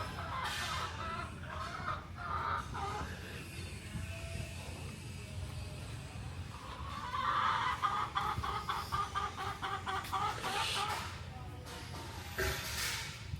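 A chicken at Vietnam's floating market clucks repeatedly at close range, with bursts of louder squawking and some faint talk in the background.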